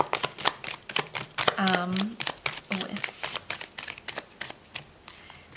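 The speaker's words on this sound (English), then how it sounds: "We'll do one more shuffle and then cut the deck if we need to." Tarot cards shuffled in repeated crisp riffling bursts, close and fairly loud, with a spoken voice over parts of the shuffling.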